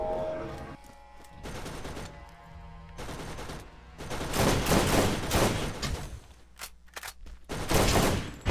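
Rapid automatic rifle gunfire from a weapon in the Borderlands video game, bursts of loud shots repeating across the clip, strongest in the second half, with brief pauses between volleys.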